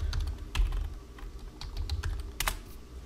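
Typing on a computer keyboard to fill a notes field, a quick irregular run of close key clicks over a low background hum.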